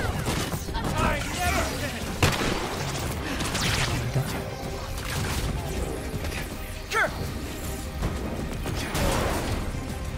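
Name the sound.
shotgun firing in the video game Marvel's Avengers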